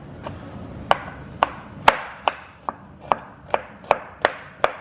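Radishes rough-chopped with a knife on a cutting board: about a dozen crisp, evenly spaced cuts in a steady rhythm, close and clear with no voices.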